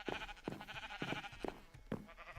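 Sheep on a farm in the video game Minecraft bleat repeatedly, several short wavering baas in quick succession at moderate volume with no talking.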